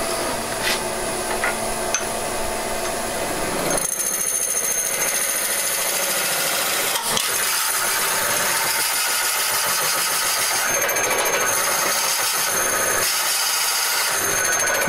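A wood lathe runs steadily while turning a lamp base, a loud continuous motor whine with shifting bursts of higher-pitched cutting and scraping, close by and without talking.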